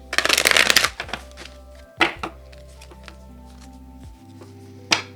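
Tarot and oracle cards are shuffled up close in a dense riffling burst, followed by softer card slides and taps with quiet gaps, then another brief shuffle at the end.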